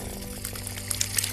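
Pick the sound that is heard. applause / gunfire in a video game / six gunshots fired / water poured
water poured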